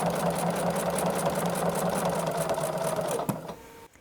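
Sewing machine quilting with an echo quilting foot, a steady close whirring motor with fast needle chatter that runs continuously and then winds down and stops at the end.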